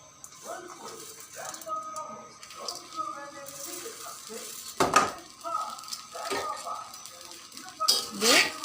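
Rice is stirred through hot sand in a pan, giving a gritty scraping and rattling with soft sizzling and occasional sharp clinks of the utensil against metal, with a voice talking over it.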